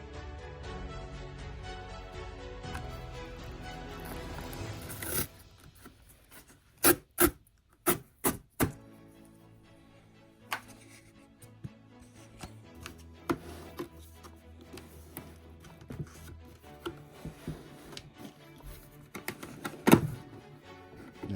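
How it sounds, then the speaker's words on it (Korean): Packaging of a Mac Studio is torn and rubbed open up close: crinkling and scraping, a few sharp rips in quick succession, then quieter handling and rustling. "뜯는 소리가 아주 리얼하게 잘 담겨져 있죠"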